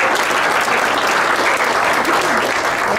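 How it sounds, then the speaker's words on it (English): Steady, dense applause from a crowd at a country club golf and banquet event, filling the whole stretch at full volume with no break and no talk. "Applause to them."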